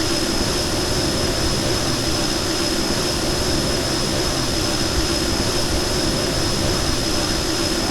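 Aircraft engine taxiing in Kerbal Space Program, a steady loud jet-like roar with a constant high whine, unchanging and alone throughout.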